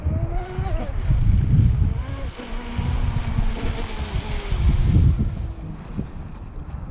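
An RC boat fitted with G-10 ridepads and a carbon canard runs across the water on a windy, cold day, its motor whine rising and falling under gusty wind noise.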